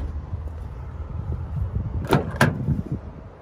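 Driver side door of a 2016 Toyota Fortuner GX opening, two sharp mechanical clicks of the latch close together near the end, over low ambient rumble.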